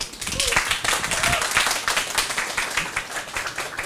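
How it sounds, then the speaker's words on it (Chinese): An audience at a tech talk claps to welcome the next speaker, giving several seconds of dense, steady applause that fades slightly toward the end. "请掌声欢迎"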